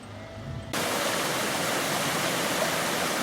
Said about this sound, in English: There's a very scenic ford with some nice rushing water at the bottom of the hill here.